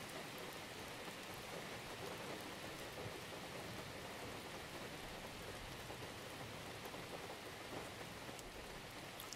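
Rain falls steadily in a forest with a dense, even hiss of drops on leaves and surfaces, soft and continuous, with no voices.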